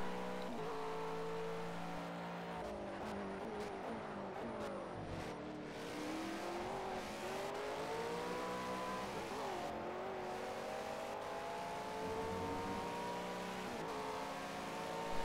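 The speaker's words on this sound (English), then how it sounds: "That car makes a nice noise when you're like actually racing it." A race car engine in the Project CARS video game, a GT3 car in a time trial, roars continuously at high revs, pitch climbing and dipping through gear shifts, loud and close with no talking.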